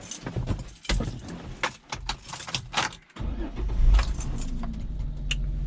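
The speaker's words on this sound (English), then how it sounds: "Start this vehicle up." A manual-transmission Jeep is started with the key: keys jangle and rattle at first, then the engine cranks and catches into a steady low running rumble, with faint voices in the background.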